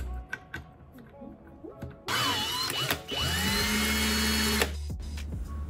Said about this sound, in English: To make this hole, I am using MaxSell's 20-volt cordless drill and a hole saw.